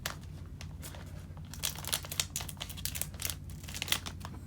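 Soft crinkling and rustling of a LEGO Super Mario character pack's plastic packaging, in quick irregular bursts that grow busier midway, close and fairly quiet.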